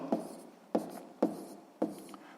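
Pen strokes scratch across paper while a math solution is written out, four distinct short scribbles at a steady pace, close and clear with no voices.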